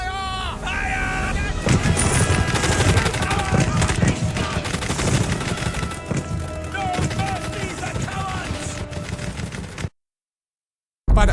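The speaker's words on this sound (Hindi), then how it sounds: "एनकेवीडी के सैनिक अपने ही सैनिकों को मशीन गन से भून रहे हैं।" Machine gun fire from NKVD soldiers at the Battle of Stalingrad in World War 2, dense rapid bursts over a thick battle soundscape that runs almost continuously before a short silence near the end.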